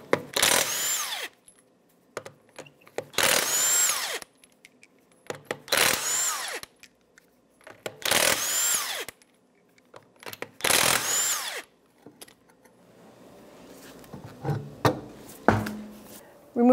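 A power tool with a 21 mm socket zips off the wheel nuts of a 2009-2014 Nissan Maxima, five loud, separate bursts of about a second each at a steady rhythm, close up, followed by softer clanks and handling noises.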